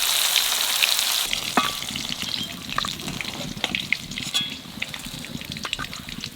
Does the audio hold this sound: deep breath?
no